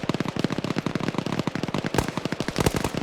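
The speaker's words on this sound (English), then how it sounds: "A lot of bullets go in his direction." Rapid automatic gunfire in a video game, a dense, loud, evenly spaced burst of shots that rattles on for several seconds with no pause.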